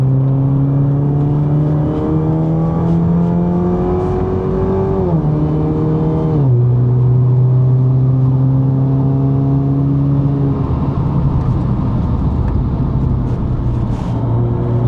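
A 2.0-litre turbocharged Alfa Romeo Giulia with upgraded brakes, lapping a race track while passing a Porsche GT3 RS. The engine drones loud and close from inside the car, climbing through the gears and dropping pitch at each shift.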